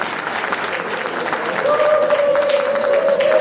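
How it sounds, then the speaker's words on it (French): An audience applauds at a political gathering of the Congolese opposition. Sustained clapping swells louder midway, with a steady tone sounding underneath. "Je vous demande de l'applaudir très fort."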